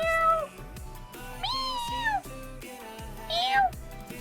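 A person imitates a cat, giving three drawn-out, high, falling meows in a voice. They sound close and clear, with low background sound between them.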